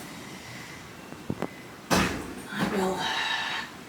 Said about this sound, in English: Apologies about that door banging.